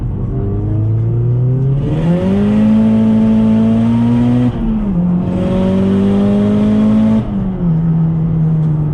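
A Mazdaspeed 3 engine revs up hard through several gears starting in second, rising in pitch before each brief dip at the shift, loud and close with no talk.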